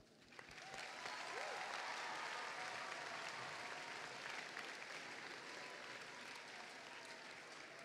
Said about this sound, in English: Can we have a round of applause for those exceptional ensembles?